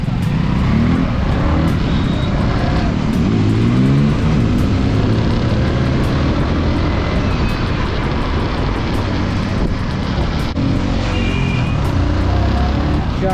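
Kawasaki Ninja 1000 and Z900 superbikes race past during a Dussehra ride in Jammu, engines roaring and revving loudly and continuously, with rising and falling pitch over steady road noise.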